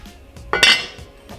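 A lid clanks onto a pot of simmering chili with one bright metallic clatter and a short ringing rattle, close and loud in a quiet kitchen.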